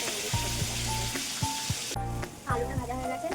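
Potatoes sizzling in hot oil in a home kitchen pan, a constant close crackle broken by spatula scrapes and clanks as they are stirred, the sizzle surging louder near the end.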